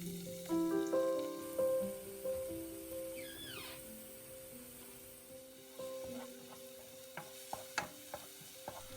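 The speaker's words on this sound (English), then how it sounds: "On medium heat, I'm adding some oil and sauteing the garlic until it's fragrant and soft." Garlic sauteing in oil on medium heat, a soft sizzle under gentle stirring with a few utensil taps and scrapes near the end; background tones are present and no one talks.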